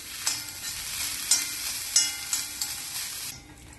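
Grated coconut and shallots stir-fried in a pan for a Kerala sadya masala curry, a steady sizzle punctuated by several scraping stirs of a spatula, close and moderately loud with no talking.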